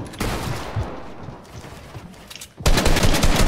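Assault rifle fire in a video game build-fight match: a rough, quieter stretch of game noise breaks into a loud, sustained burst of rapid automatic shots near the end.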